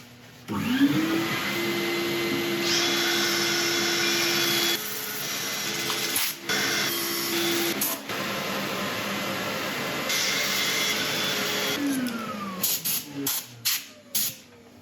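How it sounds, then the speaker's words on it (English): A power sander whirs steadily on chestnut burl wood in a workshop, starting and stopping a few times, with a loud continuous hiss and brief pauses near the end. "Right, I'm going to set up for sanding."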